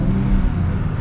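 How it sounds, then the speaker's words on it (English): Engine of a 2023 Nissan Z with a manual gearbox, heard from inside the cabin in standard drive mode as a steady, loud low-pitched drone with brief surges, close and alone without talk. "Give it a few revs."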